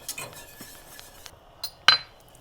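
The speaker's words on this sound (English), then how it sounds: "Now I'm gonna add my seasoning" Metal utensils clink against a dish while seasoning goes into baked mac and cheese, a few soft taps followed by one sharper, louder clink near the end, close and without talk.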